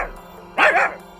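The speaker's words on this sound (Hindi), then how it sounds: "अरे ये कुत्ता कहाँ से आ गया?" A dog gives a single loud, close bark, sharp and brief, rising out of a quiet background in a forest story scene.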